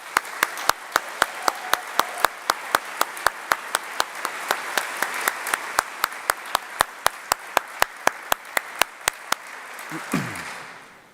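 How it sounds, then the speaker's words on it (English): Audience applause at a senior honors convocation, a continuous wash of many hands clapping with one loud, regular clapper standing out near the microphone, fading out at the end. "Round of applause again."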